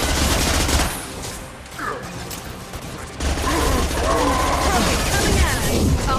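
Gunfire in the Mass Effect 2 video game, a busy burst of shooting mixed with mechanical clatter and game noise, running steadily throughout with voices heard over it.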